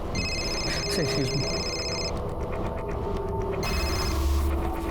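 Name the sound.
telephone ringing in a TV crime drama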